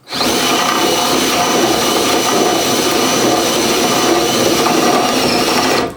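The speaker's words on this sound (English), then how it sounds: "you want to be on full speed on the drill and hold back" A power drill at full speed cuts through a rubber trailing arm bush on an Alfa Romeo 105 Series, a loud, steady grinding whine for several seconds, close up, then cuts off at the end.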